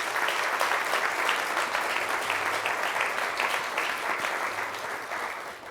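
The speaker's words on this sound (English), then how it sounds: "Let's give Dr. Ernst a round of applause for his leadership in that area" An audience at a university address gives a dense, sustained round of applause that stays loud throughout and eases slightly near the end.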